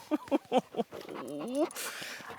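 A poodle and Portuguese water dog mix whimpers in a series of short, high, faint whines that rise into a longer plaintive cry, heard close up under quiet talk.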